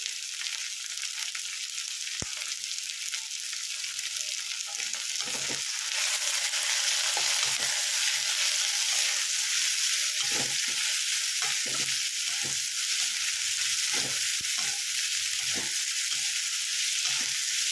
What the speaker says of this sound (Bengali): পেঁয়াজটা ভালো করে ভাজা হয়ে যাবে